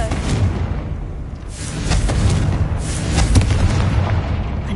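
A Confringo blasting curse goes off in Hogwarts Legacy, with booming explosive bursts and rumbling impacts layered over continuous game noise, loud and close throughout.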